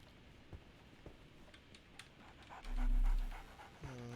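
Quick, rhythmic panting from a dog in Sherlock Holmes The Awakened, fairly close and steady, with a brief low rumble and a few soft ticks partway through.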